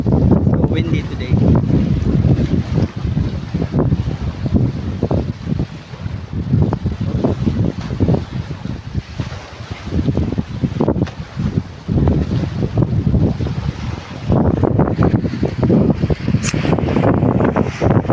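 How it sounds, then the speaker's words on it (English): Strong wind buffets the microphone in a constant roar, with a voice speaking under the rumble. "So windy today."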